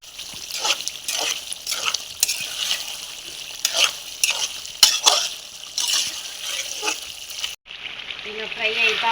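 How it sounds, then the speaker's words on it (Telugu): Chicken fries in a pan, close and steady sizzling broken by repeated clinks and scrapes of stirring, fading to a quieter bubbling simmer in the last seconds. "ఇలా ఫ్రై అవుతూ ఉంది కదండి"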